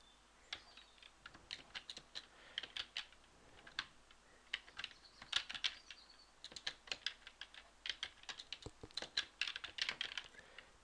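ABAP code being typed on a computer keyboard in a quiet room: quick, uneven bursts of crisp key clicks with short pauses between runs, close and clear.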